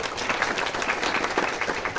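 An indoor audience at the opening of a music workshop festival in Lubawa claps together in a dense, steady burst of applause that lasts about two seconds.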